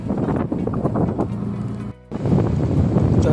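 Strong storm wind with rain sweeps over a fishing harbour at sea, a loud, continuous buffeting roar on the microphone with a low droning hum beneath it and one brief dropout.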